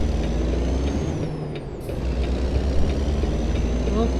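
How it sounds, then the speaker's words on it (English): Hiss of a truck's air brake in American Truck Simulator, heard briefly over a steady low engine drone that carries on throughout, with no talk over it. "I need to brake."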